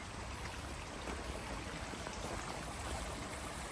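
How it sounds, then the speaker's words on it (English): Water stream running over a bridge along a forest nature walk in Newlands, Cape Town, producing a steady broadband rushing wash, close and continuous with no other sounds. "There is water stream on top of the bridge."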